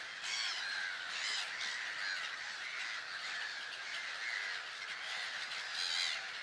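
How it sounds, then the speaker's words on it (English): A large colony of birds squawk and caw at once in Africa, a dense, continuous chorus of harsh calls at moderate distance with no pauses. "Such a huge amount of birds produces a very loud noise."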